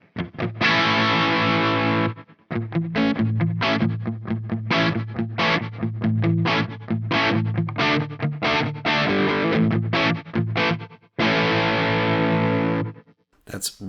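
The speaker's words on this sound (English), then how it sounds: "It gives you almost like an added delay effect when you've added some tremolo to that." Electric guitar through a Coffee Shop Pedals Cortado reverb with tremolo, loud distorted chords chopped into rapid pulsing bursts with short gaps, a long sustained chord near the end before a sudden stop.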